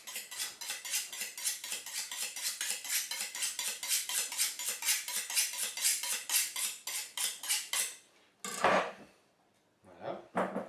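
A dull kitchen knife saws repeatedly through game meat or bones for a game stock, giving a steady run of rapid scraping, clicking strokes for about eight seconds, then a brief pause, a louder scrape and one last short burst.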